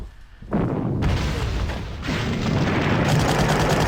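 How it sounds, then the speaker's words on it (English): Explosion of a destroyed artillery unit in the strategy game Panzer Corps: a sudden loud boom that swells into a sustained rumbling blast, continuing with noisy debris-like roar for a few seconds. "Boom. We destroyed that artillery also."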